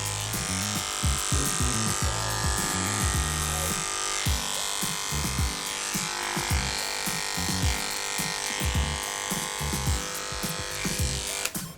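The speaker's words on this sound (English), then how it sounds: "Then I'm going to clipper." Wahl Professional electric clippers buzz continuously while shaving through a dog's coat, a close, steady motorised drone with uneven rustling pulses as the blade moves through the hair.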